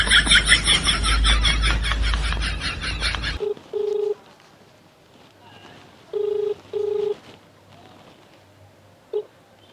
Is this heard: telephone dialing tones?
yes